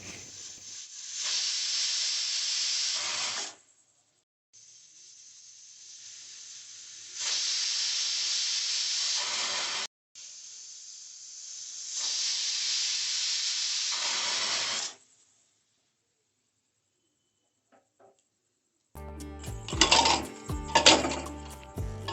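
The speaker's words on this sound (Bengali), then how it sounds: "ভালো করে সেদ্ধ করে সিটি মেরে নিই" A pressure cooker boiling chickpeas releases three long, loud bursts of hissing steam separated by short pauses, followed by a brief clatter of pots.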